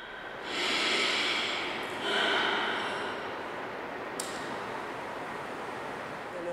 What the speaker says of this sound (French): Puis des respirations normales.